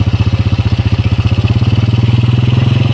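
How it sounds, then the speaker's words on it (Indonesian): A motorcycle that keeps stalling and needs tuning runs with the throttle raised, its loud close engine pulsing in a fast even chug that picks up slightly in pace. "Coba saya tinggikan ya gasnya ya"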